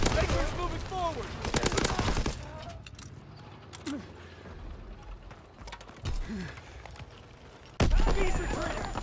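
Bursts of weapon fire in the World War II shooter Call of Duty: WWII, rapid shots early on and again near the end, with quieter stretches between, while game voices call out over the fighting.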